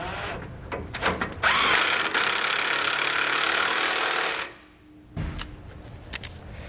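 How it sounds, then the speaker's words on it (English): Power tool, likely an impact driver with an 18mm socket, snugging down the large front bolts of a Roadmaster anti-sway bar on a 2014 Forest River Lexington motorhome; a close, steady whir runs about three seconds, then short bursts follow. "So use that 18mm socket again for the large bolts in the front."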